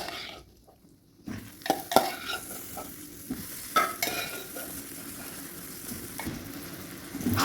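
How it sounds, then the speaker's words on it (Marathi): Lemon pieces are stirred into sugar syrup in a pan over a low flame while making sweet-sour lemon pickle, giving soft sizzling with intermittent spoon scrapes and clinks against the pan, close and fairly quiet. "आता आपल्याला मिक्स करून घ्यायचं आहे"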